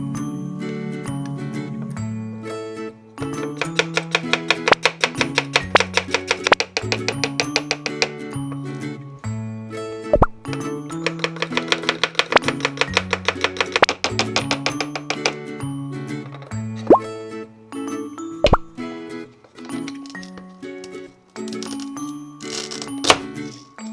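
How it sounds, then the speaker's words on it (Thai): Toy play-food carrots being sliced with a toy knife during pretend cooking, a steady run of light plastic thunks and clicks in quick rhythmic bursts, close and fairly loud with brief pauses between rounds. "หั่นแครอทเยอะๆเลย"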